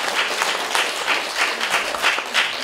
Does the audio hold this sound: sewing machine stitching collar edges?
no